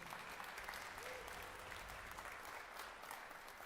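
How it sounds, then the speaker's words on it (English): After an adult strings camp friends and family concert, the audience claps for the performers, a steady, even wash of applause heard faintly from a distance. "Can we have a round of applause for these people up here?"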